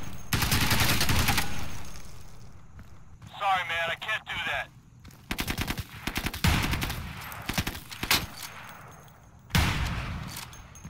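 Gunfire in the video game Insurgency, with bursts of automatic rifle fire cracking loudly up close between tense pauses, while players talk and shout over the shots.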